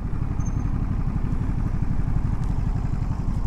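A 2022 Ducati Monster Plus with a quick shifter runs steadily, a low rapid engine throb pulsing evenly throughout, with no voices over it.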